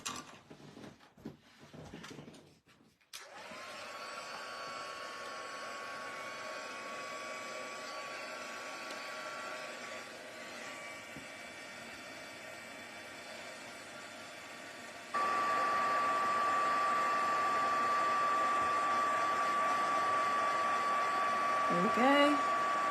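A handheld embossing heat tool blows hot air over embossing powder on a stamped image, a steady whirring hiss that starts after some brief handling noise and grows noticeably louder partway through.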